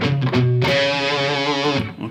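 Distorted electric guitar plays a riff, a few quick palm-muted chugs leading into a loud sustained ringing chord with slight vibrato that fades out, played alone.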